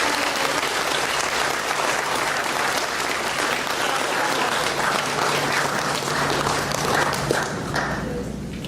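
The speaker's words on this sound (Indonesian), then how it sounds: "Berikan tepuk tangan yang meriah." Sustained loud applause from a large crowd at an entrepreneurship workshop for university students, steady clapping that continues throughout before easing slightly at the end.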